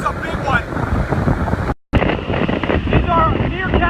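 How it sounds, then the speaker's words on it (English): Sustained hurricane winds of around 130 mph roar inside Hurricane Michael's eyewall, buffeting the microphone in a dense, loud rush with a brief dropout, while someone speaks through the noise. "we're looking at approximately 130 mile an hour sustained winds right now"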